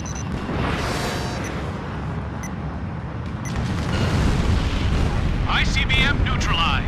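An ICBM is shot down and explodes in the aerial combat game Ace Combat Infinity, a heavy rumbling blast that swells and stays loud, with sharp bursts and crackles scattered through it.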